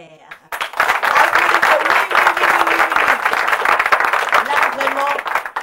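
Church congregation applauding the founder of a Christian ministry: a loud, dense burst of many hands clapping starts abruptly and holds steady, with a voice talking over the clapping throughout.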